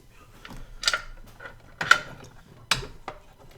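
A ratchet torque wrench clicks and ratchets in irregular bursts while bolts are tightened on a 2000 Chevy Tahoe engine, close and fairly quiet in a garage, with several distinct sharp clicks and no talking.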